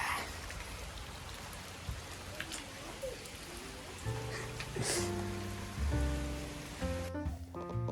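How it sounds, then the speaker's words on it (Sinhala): Rain falls during an outdoor walk, a soft and steady patter on surfaces, fairly faint and distant, with tonal voices or sounds joining in the second half. "හිතපු නැති විදියට වැස්ස චුට්ටක් වැඩි වුණා"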